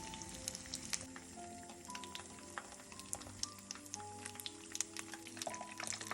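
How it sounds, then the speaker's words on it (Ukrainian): Belyashi, meat-filled dough pastries, frying in hot oil give a steady soft sizzle with frequent tiny pops and crackles, faint and close, with faint background tones drifting along underneath. "Це вже другу партію обсмажую"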